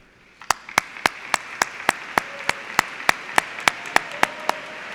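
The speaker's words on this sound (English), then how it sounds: "Please, will you applaud them in return?" Sparse, slow clapping from a small number of hands at a graduation ceremony, about a dozen distinct claps at a steady, unenthusiastic pace, fairly near and alone without talk.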